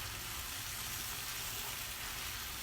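Squash and onions sizzle steadily in three tablespoons of melted butter in a skillet, a soft, even frying hiss with no voices.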